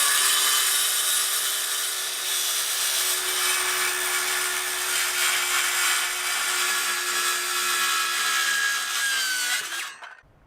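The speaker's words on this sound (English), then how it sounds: "I need to cut a little bit of plywood up just to fill an awkward spot, so this will be the circular saw's first trial run." Handheld circular saw on its first cut through plywood, a loud continuous high-pitched whine with a steady grinding rasp, running alone for about ten seconds before spinning down abruptly at the end.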